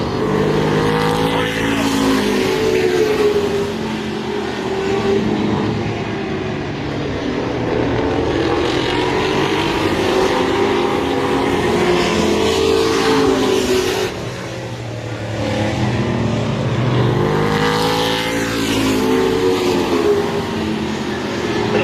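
Race cars in a NASCAR-style weekly motorsports series run side by side, engines roaring loud and continuous with rising and falling revs as the pack passes, a dense unbroken wall of engine noise with no clear talk.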